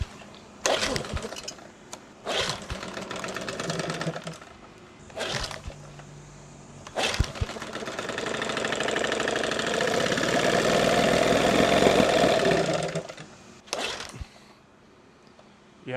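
Several hard yanks on the pull cord of a balky outboard boat motor with a full tank, each a loud rasping burst, before the engine sputters, catches and runs roughly for several seconds, then dies, with more pulls after.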